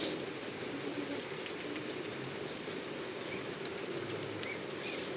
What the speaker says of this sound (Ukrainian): О, файний дощик падає.